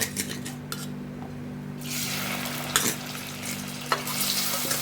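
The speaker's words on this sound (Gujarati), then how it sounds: "હવે આપણે એ જ પેનમાં થોડું તેલ લઈને પાછા એને પણ આપણે ફ્રાય કરી લઈશું" Paneer pieces fry in about three spoons of oil in a pan for paneer lababdar, giving a steady low sizzle broken by a few sharp metallic scrapes and clinks of a spoon against the pan, with no voices.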